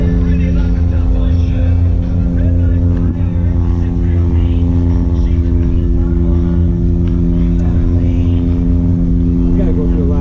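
Small propeller plane towing an advertising banner overhead at a Frankenmuth, Michigan car show, a steady droning engine hum that runs continuously under people talking nearby.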